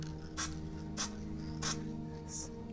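Four short hissing bursts of spray can metal flake paint misted onto an RC Slash truck body, spaced about half a second apart, the last one softer, over a steady low hum.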